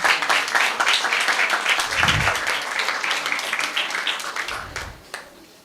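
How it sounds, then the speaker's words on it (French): An audience at a certificate presentation ceremony applauding, dense clapping that fades toward the end, with a voice briefly audible underneath. "On applaudit."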